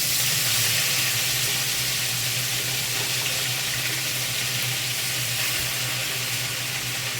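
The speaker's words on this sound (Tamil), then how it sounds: "அதே பாத்திரத்தில் கொஞ்சமாக எண்ணெய் சேர்த்து நம்ம கட் பண்ணி வச்சுருக்க வல்லாரக்கீரையை சேர்த்துக்கலாம்" Chopped vallarai (brahmi) greens frying in a little oil in a pan, giving a steady, close broadband sizzle with a low hum underneath, continuous throughout with no talking.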